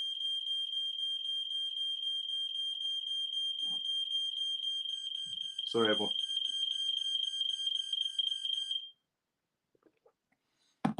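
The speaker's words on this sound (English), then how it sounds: "They've been testing fire alarms all day long." An indoor fire alarm under test shrieks in a loud continuous high tone for several seconds, then cuts off, and a person speaks briefly over it.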